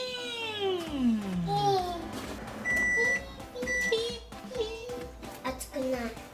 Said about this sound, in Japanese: ふんわりとラップをかけたら電子レンジで1分半チンします